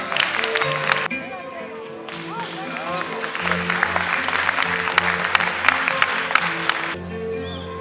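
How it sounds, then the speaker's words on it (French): An audience at a magic show applauds in a dense, continuous patter of clapping, with music and a voice audible through it and a pause partway. "Sous vos applaudissements."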